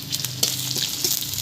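Dried fish and sliced onion frying in a hot pan, giving a close, continuous sizzle with a few brief scraping bursts as the pieces are moved around.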